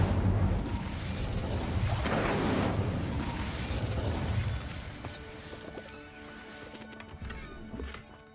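A spell effect in Hogwarts Legacy, a loud roaring whoosh and crackle of conjured fire that swells for several seconds, then fades into quieter clattering and ringing tones.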